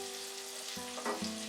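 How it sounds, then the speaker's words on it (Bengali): Chopped onions fry over medium heat in melted butter for paneer butter masala, with a constant close sizzle under a low steady hum and a couple of soft stirring knocks. "পেঁয়াজটা দিয়ে মাঝারি আঁচে আমরা 2-3 মিনিট ফ্রাই করব।"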